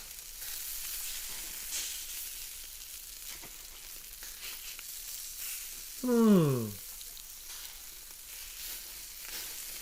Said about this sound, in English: he cooked the meat on warm hot plate and put the lid on